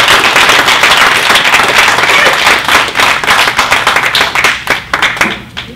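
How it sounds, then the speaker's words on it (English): An audience at a web-design meetup gives a loud, dense round of applause. It thins into scattered individual claps toward the end. "Can we have a round of applause for you?"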